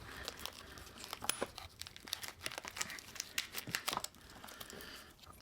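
A knife works a piece of sinew free from an elk leg, making quiet, irregular tearing and crinkly scraping sounds in short bursts at close range, with no speech.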